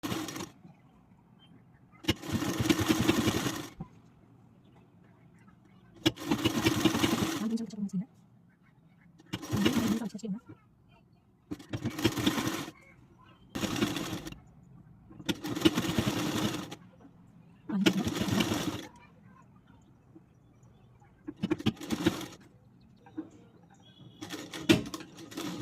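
A sewing machine stitches the neck piece of a blouse in about ten short bursts of rapid whirring, each a second or two long, with quiet pauses and someone talking between them.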